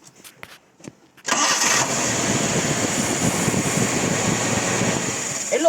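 A Nissan C22 Vanette van fitted with a new water pump is started after a few soft clicks and taps. The engine catches and settles into a steady, close idle rumble.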